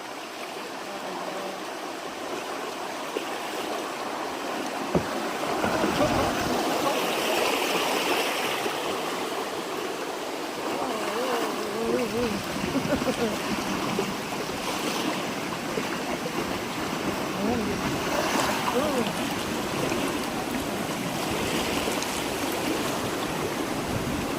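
Shallow river current flowing steadily, a continuous broadband rush of moving water heard close and alone, with a few brief splashes and gurgles partway through.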